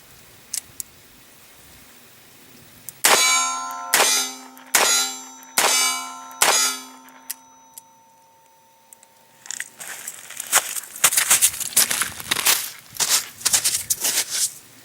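A revolver hammer falls double action on a Winchester small pistol primer and the round misfires, giving four sharp metallic clicks with ringing tails, followed by lighter handling rattles and clatter.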